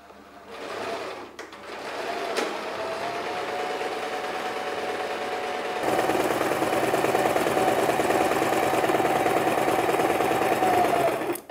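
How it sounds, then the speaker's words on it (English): Domestic sewing machine stitching a fabric seam along the one-inch allowance on a traditional iro and buba garment, a steady continuous motor whir that starts softly, then runs louder and unbroken for several seconds with no talking. "So I place the edge against the 1 inch seam allowance point of my sewing machine and just sew it again."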